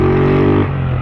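A Honda Titan motorcycle engine with its intake hose removed, revving loud and close with a strong throaty drone that drops in pitch partway through.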